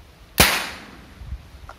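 A 50mm PVC butane-fired toy gun goes off with a single sharp, loud crack close by, then a short fading tail and a faint knock afterward.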